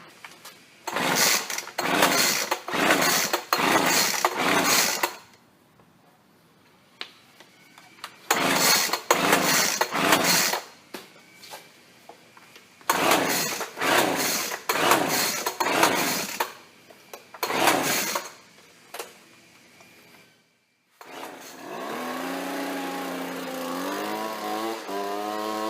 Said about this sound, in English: I'm going to give it a few more pulls, I'm going to get it started